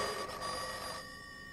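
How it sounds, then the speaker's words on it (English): A telephone bell rings in a radio drama, a brief bright metallic trill heard alone at fairly low level and tapering off. "She tensed herself and spread her hand out cautiously until the ringing telephone was under it."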